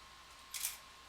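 A single quick camera shutter click during a flash exposure, brief and crisp against a quiet room hum.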